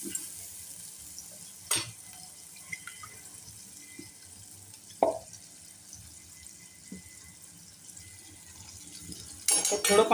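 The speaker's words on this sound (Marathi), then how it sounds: "तर थोडं पाणी पण घालूया." Water is poured into a sizzling masala paste for paneer matar. A faint frying hiss and a few utensil knocks lead to a louder burst of splashing and bubbling near the end.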